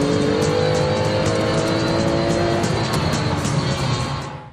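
A Maserati brakes hard into a hairpin on a Top Gear test-track lap, a loud, close engine roar winding down with faint tire noise as the car slows.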